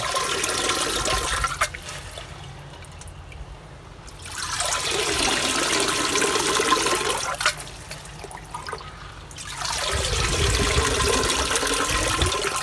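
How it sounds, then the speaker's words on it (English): A dirty aquarium filter sponge for a pond pump is rinsed in a bucket of water, giving close, loud swishing and sloshing in three long bursts separated by quieter dripping pauses. "Just going to give it a rinse off in this bucket because it's quite dirty."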